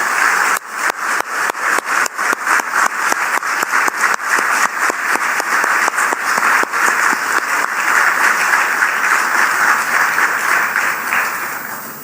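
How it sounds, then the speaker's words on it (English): A large audience at the Republic TV Summit 2024 stands and applauds loudly, the clapping starting in distinct bursts and then settling into a dense, sustained roar of applause. "let's all stand up and give him a round of applause"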